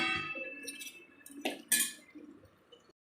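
Metal clinks and a sharp clatter as a lid is set onto a cooking pan in a home kitchen, a few close light knocks followed by one louder contact, with quiet pauses between.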